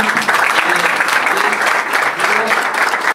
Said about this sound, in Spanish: un aplauso a ellos también